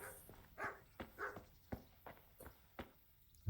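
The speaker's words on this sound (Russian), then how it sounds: "Собака лает." A dog barks in Kingdom Come: Deliverance, a medieval game world: several short, sharp yelps spaced unevenly over a few seconds, fairly quiet and slightly distant, with faint footstep-like thuds in between.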